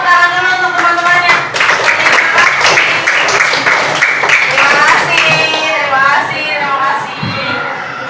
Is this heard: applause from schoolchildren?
yes